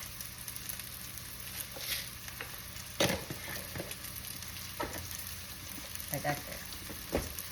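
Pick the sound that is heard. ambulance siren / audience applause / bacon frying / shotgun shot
bacon frying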